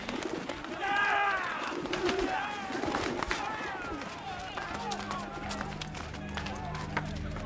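Pigeons cooing and fluttering among a crowd, heard with a burst of wingbeats and scuffling early on, then softer coos and bird calls while a voice narrates over them.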